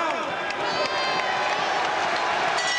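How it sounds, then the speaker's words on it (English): A boxing crowd at the 1993 Chris Eubank vs Lindell Holmes fight applauds and cheers, a broad, continuous roar of clapping and voices with a commentator talking over it. "There's applause there."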